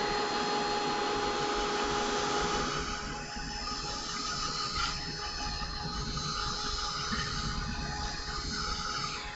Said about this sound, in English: I'm just going to whack them with the heat gun.